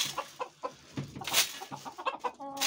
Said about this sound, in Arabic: الدجاج